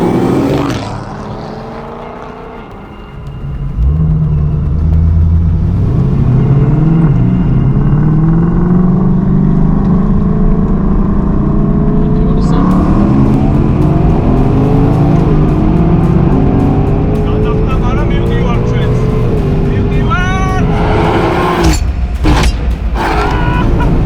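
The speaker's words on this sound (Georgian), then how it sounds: "მოკლედ როგორც მოსალოდნელი იყო ადგილიდან ბევრად წინ გავიდა GTS-ი, იმიტომ რომ ამ მანქანას ძალიან დიდი პლუსი აქვს დაძვრის" A Mercedes-AMG GT S Edition One launching in a drag race, engine roaring loudly with rising pitch sweeps as it accelerates through gears, sustained and close throughout.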